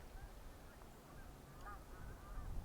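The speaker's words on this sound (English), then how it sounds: "I'm going to watch these geese fly over." Distant geese flying over honk in a loose cluster of calls midway through, faint over a steady low outdoor rumble on a snowy day.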